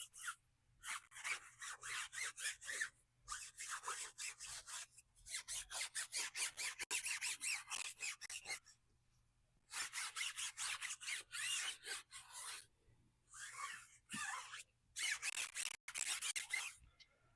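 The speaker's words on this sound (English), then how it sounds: "we're gonna get the handy dandy Detail Factory tire brush. We're gonna scrub." Stiff Detail Factory tire brush scrubbing a tire coated in tire cleaner during a hybrid car wash, a close, rapid back-and-forth rasping in bursts with short pauses between them.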